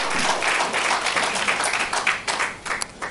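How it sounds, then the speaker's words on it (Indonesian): Congregation clapping in a church service, a dense steady burst of applause filling the room at moderate loudness, continuing unbroken for a few seconds with no voices over it. "Beri tepuk tangan yang meriah buat Tuhan."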